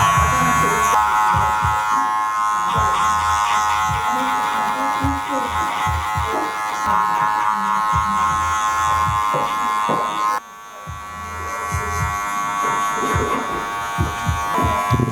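Electric hair clippers fitted with a half guard cut a short men's fade, a steady close buzz running almost continuously with a brief dip near the end, while a voice talks over it.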